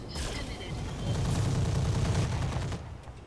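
Mech weapons in the game Roguetech all fire at once in a dense roaring volley of booms and rapid shots, lasting a couple of seconds before fading out.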